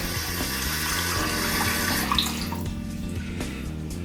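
Water streams steadily from a newly installed waterfall-style sink tap into the basin during a bathroom refit, a close, continuous splashing flow.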